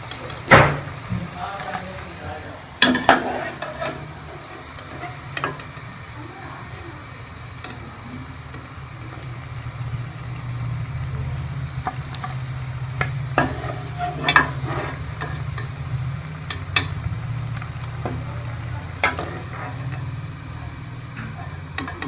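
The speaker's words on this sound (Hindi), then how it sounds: "मैं दूसरे फ्राई कर लूँगी पकौड़ों को।" Vegetable pakoras frying in hot oil, a steady sizzling bed throughout with occasional clinks and stirring scrapes, close by and moderately loud, with a voice speaking intermittently over it.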